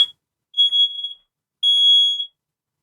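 Smoke alarm with a flat battery, sounding two loud, steady high-pitched electronic tones, each about half a second to a second long, separated by a short pause, with no talking.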